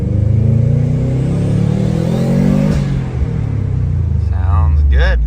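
Turbocharged 2004 Subaru WRX with upgraded injectors, fuel pump and tune pulling hard in second gear, engine note rising steadily in pitch for a few seconds, dipping briefly at a shift or lift, then climbing again, loud and close from inside the car with someone talking over it.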